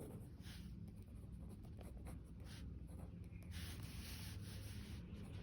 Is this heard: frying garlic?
no